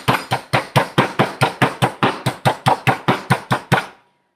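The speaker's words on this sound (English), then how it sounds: "me and my trusty meat tenderizer did this" Pork pieces pounded flat with a meat tenderizer, about fifteen sharp, evenly spaced thuds in a quick steady rhythm, loud and close with no talk, stopping abruptly near the end.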